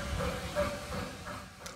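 The steam locomotive Martello runs on demonstration trains at Bressingham Steam Museum, giving a soft, distant hiss and chuff with faint rolling rumble, fairly quiet and steady.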